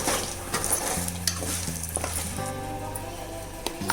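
Tempering seeds sizzle in hot oil with turmeric stirred in for an ivy gourd chutney; a steady crackling fry runs under scraping stirring sounds and occasional clinks of a utensil against the pan, with no talk.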